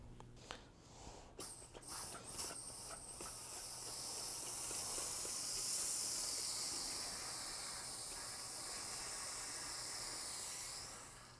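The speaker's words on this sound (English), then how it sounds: "So I'm going to go ahead and continue steaming this piece so that way I can get it to a pretty good measurement" A handheld garment steamer hisses steadily while steam blocking a crochet shawl, a broad continuous rush that swells after a few clicks at the start and holds loud and near throughout, with no talking.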